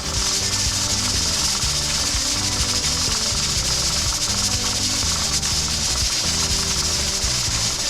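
A pressure canner's regulator weight rocks steadily on a stovetop, a continuous loud hiss of escaping steam running alongside a rapid, even rattling rhythm throughout, with no voices.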